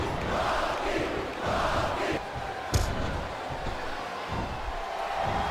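A capacity crowd at a WWE wrestling arena cheers and roars in waves, with a sharp slam-like thud midway and faint voices mixed into the steady crowd noise.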